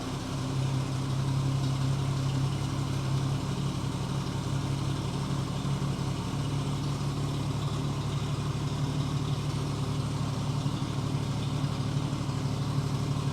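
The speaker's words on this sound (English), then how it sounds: "And it idles." A 1949 Chevrolet Deluxe engine idles steadily, a low rumbling hum with an even mechanical pulse running continuously, fairly close and uninterrupted.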